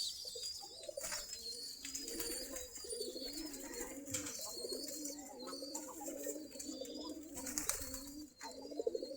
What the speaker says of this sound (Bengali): এই যে এখানে আমাদের কবুতরগুলা বাচ্চাদেরকে